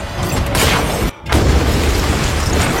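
An elevator explodes inside a building during a film scene: a loud, roaring blast fills the sound, cuts out for a split second, then surges back as a sustained heavy rumble.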